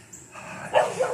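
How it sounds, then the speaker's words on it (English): Dogs at an old 1800s farmhouse give a couple of short yipping barks close by, rising after a quiet start, with no speech. "Dogs."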